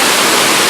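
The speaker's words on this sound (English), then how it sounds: "the water, the falling water" The falling water of Niagara Falls makes a loud, close, unbroken roar of broadband rushing noise, steady throughout the brief moment.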